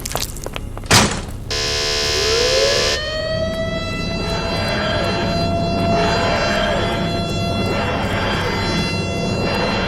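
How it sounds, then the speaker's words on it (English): A siren wails loudly, its pitch sliding up and holding a steady tone after a sharp thump near the start, with no voices over it. "It sounded like another one of those creatures sounding our sirens."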